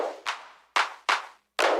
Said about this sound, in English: This was mostly claps.